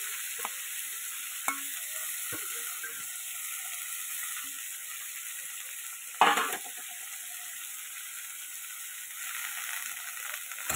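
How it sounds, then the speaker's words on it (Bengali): Bottle gourd peel and potato fry in a wok tempered with black cumin seeds, giving a faint steady sizzle with a few light clicks of stirring and one louder scrape midway, no voices. "এবার এর মধ্যে দিয়ে দেবো এই যে লাউয়ের খোসা আর আলু। এটাকে ভাজা করবো সুন্দর করে।"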